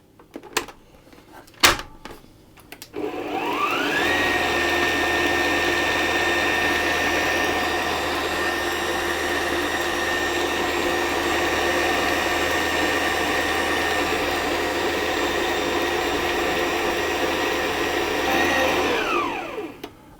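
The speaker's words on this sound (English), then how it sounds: "I'm going to start mixing this on a fairly low speed until it all comes together into a shaggy dough" A stand mixer works wholemeal bread dough on low speed, starting after a few knocks and clatters, humming steadily and evenly for about fifteen seconds, then winding down.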